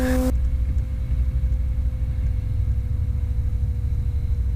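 A small training plane's engine idles and taxis at Edenvale Aerodrome during an introductory flight lesson, giving a steady, loud, low droning rumble that holds unbroken throughout with no voices.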